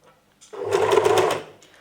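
A sewing machine stitches a waistband onto a pair of shorts in one short, close burst of rapid whirring.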